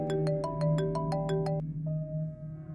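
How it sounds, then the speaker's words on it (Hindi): A phone ringtone plays an incoming-call melody of about eight rhythmic, evenly spaced tonal notes, then stops. A single softer tone follows over a steady low background hum. "अनवर का फोन।"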